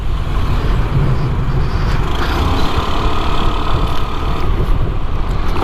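Suzuki Access 125 scooter engine running, a steady, loud mechanical hum and drone that holds even throughout, close to the microphone and with no one speaking.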